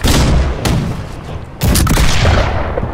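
Ship cannons fire during a pirate naval battle in Blackwake, heavy booming shots with rumbling tails, one loud blast near the start and another heavy volley a little past halfway, close and powerful with no talk.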